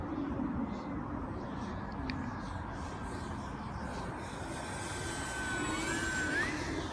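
An FMS P-40B Flying Tiger 980mm radio-controlled warbird on approach, its electric motor giving a continuous thin whine with shifting pitch over steady outdoor wind noise.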